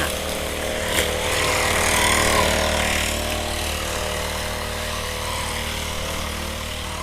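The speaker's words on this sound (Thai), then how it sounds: "สียงเครื่องตัดหญ้า" Steady droning motor of a lawn mower at a distance, swelling slightly then holding a constant buzzing hum throughout.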